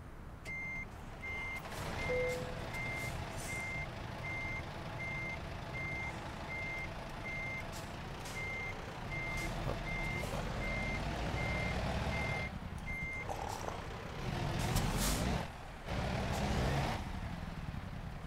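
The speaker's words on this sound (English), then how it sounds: "I like the sound of that throat, that engine." A Volvo truck in American Truck Simulator idles with a deep, steady low engine rumble, while a repeating reversing beep pulses over it. Near the end come brief hisses, like air brakes.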